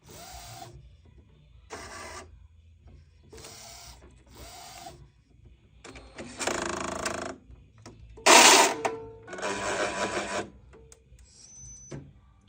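Mechanical whirring bursts from a printer, several short runs then longer, louder grinding passes as the carriage strains and stalls, with brief pauses between.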